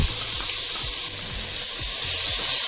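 Tomatoes for a Kenyan tilapia stew frying in a hot pan, a loud, steady sizzle up close with a spoon stirring and scraping at a regular pace, with no talking.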